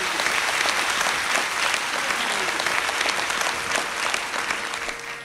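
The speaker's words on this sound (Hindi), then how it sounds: "इसलिए एक बार जरा तालियां बजाओ।" Steady audience applause at a cultural workshop and celebration, dense and continuous clapping from a crowd, loud and even throughout before easing slightly at the end.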